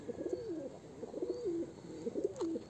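Benek breed pigeons coo softly in repeated rolling phrases, three cooing calls close by in a quiet setting.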